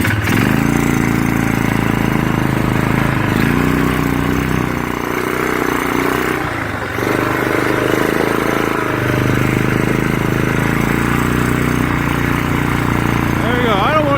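Polaris Sportsman 500 ATV engine running steadily in gear with no air filter fitted, a loud continuous mid-pitched drone with slight rises in revs, while someone talks over it.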